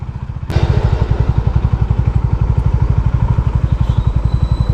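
A Honda Hness CB350 motorcycle rides along a rough, unpaved road toward a dam in heavy rain, its single engine thumping in a fast, even rhythm close by and loud after a sharp knock at the start.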